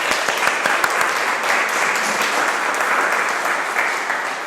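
Audience applause fills a church service: steady, dense clapping from a congregation at close range, holding evenly for several seconds with no voices on top.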